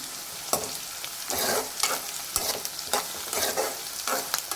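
Onions and green chillies with curry leaves frying in a pan for tomato curry, a constant close sizzle with repeated spoon stirs and scrapes.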